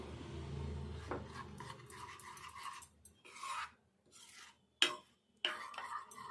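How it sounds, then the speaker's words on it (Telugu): Cauliflower pakoda batter stirred by hand in a bowl: soft, wet scraping and rubbing strokes in uneven bursts, fairly quiet and close, with brief pauses and a couple of sharper knocks near the end. "అంతా కలిసేటట్టు కలుపుకొని ఇదిగో ఈ విధంగా కలుపుకోవాలి"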